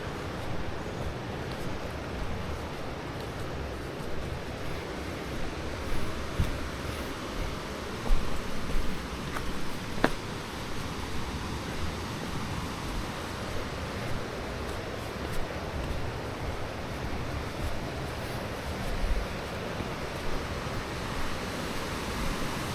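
Steady roaring rush of the Garganta do Diabo waterfall near Lages, heard from the approach to the upper falls as a continuous dense wash of noise with slight swells and some wind.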